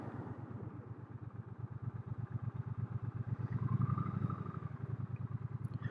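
A 2022 Triumph Bonneville T120 motorcycle engine pulses steadily while riding, a low rhythmic throb that swells slightly mid-clip as the rider shifts, heard without talk.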